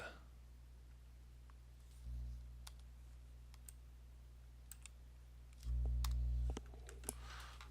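A few sharp, isolated computer mouse clicks over a quiet steady hum, with two brief bursts of louder low noise.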